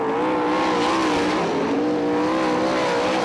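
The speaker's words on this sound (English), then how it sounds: "Louis Carfell sideways, turn 1, on the gas, 360, keeps it going." Sprint cars race on a dirt speedway, a loud, continuous engine roar with rising and falling pitch as the cars power sideways through the turn with no talk.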